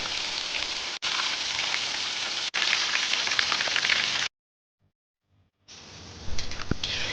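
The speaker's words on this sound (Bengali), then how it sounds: "এখানে আমি 3টা সেদ্ধ করা হাঁসের ডিম ভেজে নিচ্ছি" Loud crackling sizzle of three boiled duck eggs frying in hot oil, with two brief breaks and a silent gap before the sputtering resumes.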